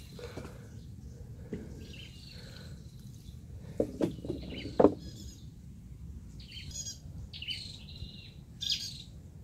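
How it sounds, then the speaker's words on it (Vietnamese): Small birds chirp in a field beside a muddy trapping area in Sóc Trăng, with scattered short tweets and calls over a low outdoor background, a few sharper calls standing out briefly and no talking. "Đây, chim sâu quá trời bạn."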